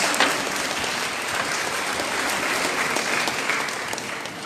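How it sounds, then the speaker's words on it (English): A commencement crowd at a senior high school graduation gives a sustained, dense round of applause, loud and even throughout with no speech over it. "It is given a round of applause."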